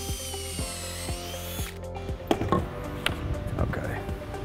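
Drill driving pocket screws into wooden bench boards, a whirring motor with clicking and knocking as the screws bite, close by.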